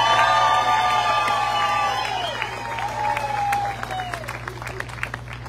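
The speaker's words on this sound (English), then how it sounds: "How about a round of applause for him and his family who put up with all this crap?" Political rally crowd in Georgia applauding and cheering, with whoops and shouts rising over dense clapping that gradually thins out; a voice carries over the noise.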